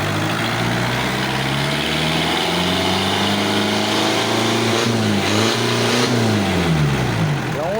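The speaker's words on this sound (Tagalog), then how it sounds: "4DR5 old model, ganda ng andar o." An old-model Isuzu-style 4DR5 diesel engine with transmission runs loud and close, a constant rough idle with harmonic drone that rises and falls slightly in pitch, no voices over it.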